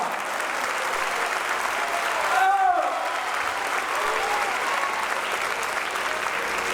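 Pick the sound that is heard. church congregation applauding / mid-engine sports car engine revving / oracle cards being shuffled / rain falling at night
church congregation applauding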